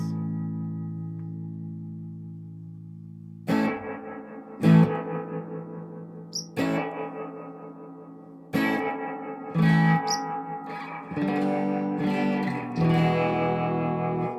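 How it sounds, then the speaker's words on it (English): Electric guitar through a spring reverb and a pulsing tremolo effect plays a few separated chords and notes, each wobbling in volume and trailing off with a washy reverb tail, fairly close and with no talking. "I compare that funky sounding tremolo sound to"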